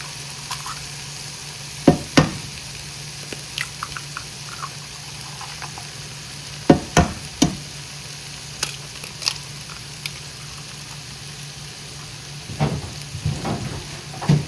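Beaten eggs frying and being stirred among idiyappam noodles in a pan, a steady close sizzle broken by sharp scraping and clacking spatula strokes that come in scattered clusters.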